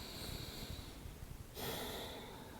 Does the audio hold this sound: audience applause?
no